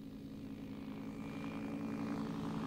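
Steady droning engine of a light aircraft in flight over a flying club in Pattaya, Thailand, a continuous hum heard from inside the plane with no talk.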